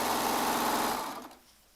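A Baby Lock Triumph serger runs in a steady fast whir close by, then winds down and stops, leaving near silence.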